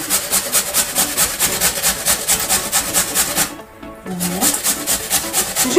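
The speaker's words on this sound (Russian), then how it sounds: "У нас сырая картошка. На крупной терке, да, берем." Raw potato rubbed hard against a coarse grater, a loud rhythmic rasping of quick, even back-and-forth strokes close by, with one brief pause before the scraping resumes.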